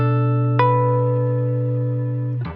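Electric guitar runs through a rotary effect on a BOSS GT-1000 modeller with the effect level at maximum: one sustained note, then a second picked note that rings steadily for about two seconds before a brief noisy ending.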